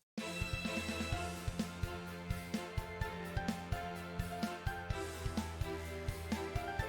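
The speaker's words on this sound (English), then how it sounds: "I came up with this lead on piano, as well as a counter melody on flute." Orchestral video game field theme with a piano lead and a flute counter melody over steady rhythmic percussion hits and sustained low strings, moderately quiet, purely instrumental with no voices.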